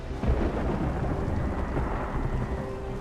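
A foreboding thunderclap in the video game XCOM 2 rolls into a steady, loud rumble of thunder with rain-like hiss. It fills the whole stretch on its own, with no voices.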